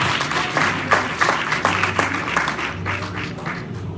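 Congregation applauding together at a Spanish-language church service, a steady wash of many hands clapping with a low murmur and faint music underneath.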